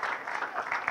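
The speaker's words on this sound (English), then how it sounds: "Let's give God a clap for that one." A church congregation clapping during a Sunday gathering, a brief burst of many hands applauding together, steady and moderately loud for about a second.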